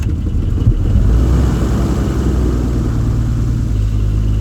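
The left piston engine of a Cessna 340 twin starts up, giving a loud, low, throbbing engine rumble that stays steady and close throughout.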